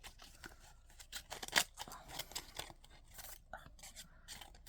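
Scissors snip through Stampin' Up Paper Pumpkin craft paper in a few quiet, uneven cuts with rustling and scraping between them, close by and faint.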